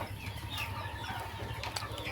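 Chickens and pigeons on a farm in Douro, Bohol: soft clucking and low fowl calls with a few brief wing flaps, faint and somewhat distant, with no talk.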